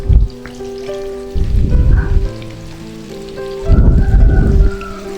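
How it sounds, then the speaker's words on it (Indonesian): Cut eggplant frying in hot cooking oil over medium heat, a loud steady sizzle that swells into two heavier bursts of crackling spatter, with no voices. "panaskan minyak goreng, lalu goreng terong yang sudah dipotong dan cuci bersih"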